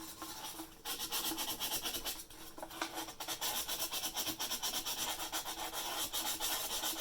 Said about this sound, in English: We also need to sand around the cracks because we're going to have to touch those up with some paint.